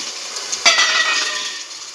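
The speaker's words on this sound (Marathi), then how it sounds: "चांगलं परतून घ्यायचं।" Sprouted moth beans for Kolhapuri misal land in a hot pan and are sautéed. A sudden burst is followed by a steady crackling sizzle with light stirring. The sound is close and continuous, with no voices.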